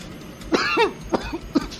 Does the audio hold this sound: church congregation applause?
no